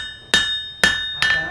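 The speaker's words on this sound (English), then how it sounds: "I'm going to hammer it here and here. And it's going to straighten the knife right out." A hammer strikes a knife blade three times to straighten it, each sharp metallic clang followed by a sustained ringing tone, close and loud at a blacksmith demonstration in Wild West City, Netcong, New Jersey.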